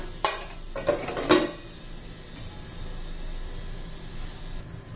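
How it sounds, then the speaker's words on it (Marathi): A metal lid set back onto a cooking pot of raw mango and jaggery, a few sharp clinks and clatters in quick succession, then a lighter tap and a quiet hum afterward. "आता पुन्हा झाकण ठेवून देऊया"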